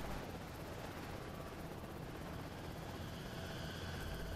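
A helicopter in the video game Prototype produces a continuous loud rotor and engine roar, dense and unbroken throughout.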